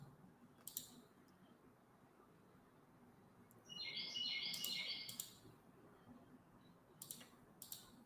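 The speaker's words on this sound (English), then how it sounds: "I can't believe you guys hear that bird." A small bird chirps in the background, a short burst of high twittering in the middle of the clip, faint against quiet room noise with a few clicks and no talk.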